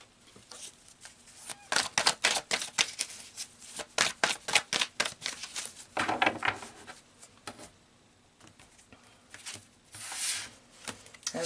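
A deck of Chinese fortune-reading cards is handled and shuffled up close, with bursts of quick papery riffling and flicking separated by short quiet pauses.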